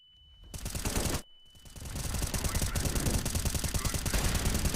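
Sustained automatic gunfire spraying in Counter-Strike, a short burst, a brief pause, then a long continuous rapid stream of shots, loud and dense throughout.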